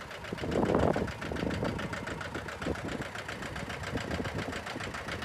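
Low, steady tractor engine idling nearby with a rhythmic knocking throb and rumble, an extra surge of noise near the start.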